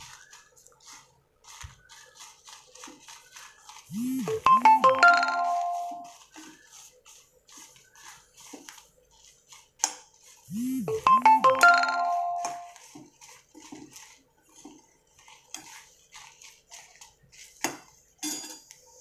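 Curry leaves and chillies being stirred in a pan, with two bursts of metallic scraping and clinking from a spoon against the pan, separated by quieter stretches of light tapping.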